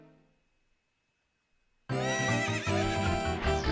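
After a moment of near silence, a horse whinnies loudly in The Legend of Zelda: Ocarina of Time against bright game music that starts abruptly and carries on.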